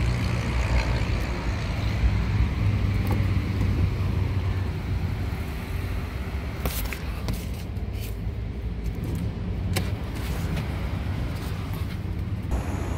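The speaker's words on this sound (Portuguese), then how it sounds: "Ó, o motor do carro, né" Steady low engine hum from a 2020 Toyota Yaris hatchback with a 1.5 litre engine, running evenly and close by for the whole stretch with no talk over it.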